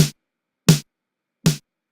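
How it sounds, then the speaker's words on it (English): Three separate snare drum hits triggered from Ableton Push pads, evenly spaced about 0.75 seconds apart, each a sharp, loud crack with a quick decay and silence between. "the snare drum is 2 pads over, and it should sound something like this"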